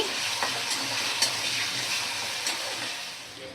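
Carrot and onion frying in a pan, a steady close hiss of sizzling oil broken by a few soft clicks of stirring, with no voices.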